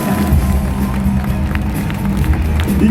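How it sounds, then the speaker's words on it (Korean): A crowd at a USANA 2020 kickoff event claps and cheers loudly and continuously, with a dense, rumbling roar that holds steady throughout. "여러분, 뜨거운 박수 부탁드립니다."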